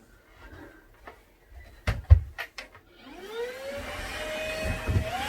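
Ultenic U10 cordless stick vacuum working on a light rug indoors, with a few clunks and knocks first, then the motor whirring up and running steadily close by.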